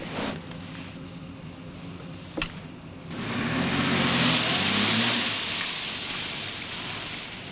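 A car engine swells into a loud, sustained roar partway through, rising then holding steady before easing slightly, heard close with a broad noisy rush and no talk.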